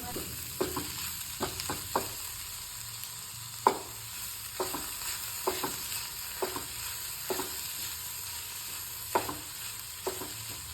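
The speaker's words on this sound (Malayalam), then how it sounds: "ഇനി ഇതിലേക്ക് അരിഞ്ഞു വെച്ചിരിക്കുന്ന പച്ചമുളകും ഇട്ട് കൊടുത്ത് വഴറ്റിയെടുക്കാം" Onion with ginger, garlic and chopped green chillies sautéing in a pan, a steady soft sizzle broken by sharp spatula scrapes and stirring clicks at irregular intervals, close and with no talk.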